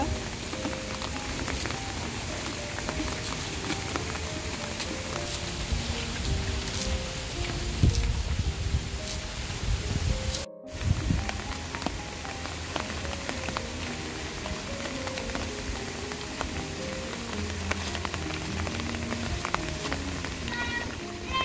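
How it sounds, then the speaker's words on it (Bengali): Heavy stormy rain pours down steadily, a loud continuous patter and drumming on surfaces with dense drops throughout, recorded close by with no talking. "কি পরিমাণ যে বৃষ্টি হইতেছে, ঝড় বৃষ্টি, দুর্যোগ শুরু হয়ে গেছে"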